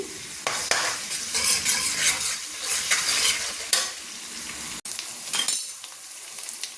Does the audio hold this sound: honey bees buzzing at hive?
no